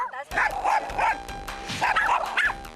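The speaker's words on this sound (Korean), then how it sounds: "갑자기 흥분해 짖기 시작하는 상디" A dog out on a group walk with other dogs barks excitedly, several loud yapping barks in quick bursts close by, with faint background voices.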